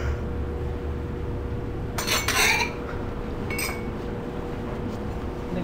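A knife chops tomato on a board for chicken salad: a short cluster of sharp clicking strikes, then a single lighter tap after a pause, in a quiet kitchen.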